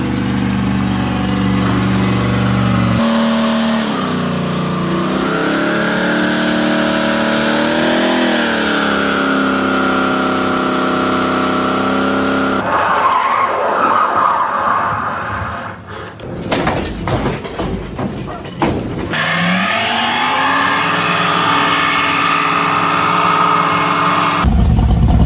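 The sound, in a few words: Duramax pickup truck engine while driving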